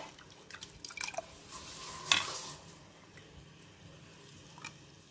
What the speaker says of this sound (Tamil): கூட ஒரு 1/2 டம்ளர் அளவுக்கு நான் தண்ணி சேர்த்துக்கிட்டேன்.